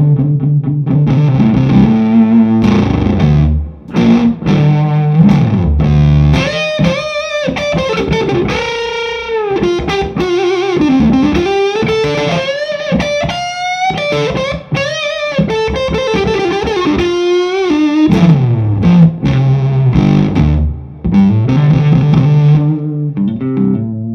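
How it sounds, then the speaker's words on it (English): Electric guitar through an Austin Pride Fuzz pedal set for wild fuzz, playing loud, thick, sustained distorted riffs and bending lead lines, continuous and without talking. "So let's just try the Austin Pride Fuzz. Let's see what a fuzz pedal does."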